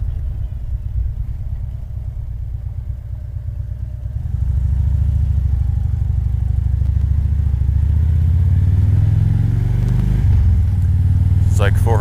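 A motorcycle engine rumbles steadily while riding, growing louder and heavier midway as the bike accelerates, with wind and road noise mixed in.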